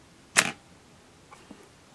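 Pentax K1000 35mm film SLR camera shutter releasing: one sharp mechanical clack, followed by two faint small clicks in otherwise quiet surroundings.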